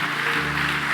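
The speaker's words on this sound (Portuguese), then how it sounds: "Pode aplaudir Jesus" Church congregation clapping during a Sunday morning service, a dense steady wash of applause filling the whole short moment without a break.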